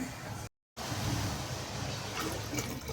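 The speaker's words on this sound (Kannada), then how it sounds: "ಎರಡು ಗ್ಲಾಸ್ ಅಕ್ಕಿಗೆ ಒಂದೂವರೆ ಲೀಟ್ರಷ್ಟು ನೀರು ಹಾಕ್ತೀನಿ" Water splashes steadily into a cooking pot holding washed rice, about one and a half litres for two glasses of rice, a continuous close pour with a brief break near the start.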